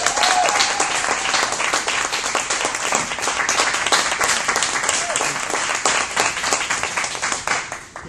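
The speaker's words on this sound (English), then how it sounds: "please give a warm round of applause for your Sergeant" Audience at a club officer training session gives warm, loud applause, dense steady clapping from many hands that fades slightly at the end.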